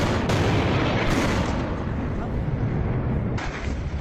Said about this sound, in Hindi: देखिए जरा धमाके एक एक करके कैसे ब्लास्ट हो रहे हैं।